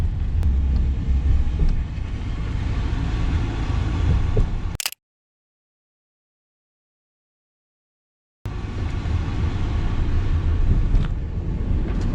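A car engine accelerating along a straightaway: a loud, continuous rumbling drone with wind noise, cut by a sudden gap of silence before resuming just as heavy.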